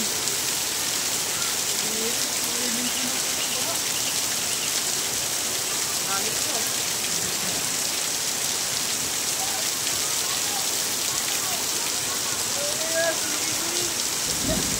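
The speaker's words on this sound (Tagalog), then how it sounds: "pag hindi humintong ulan na yan." Steady, dense rain pours down without a break during local flooding, a constant hiss of drops on surfaces, with faint voices now and then beneath it.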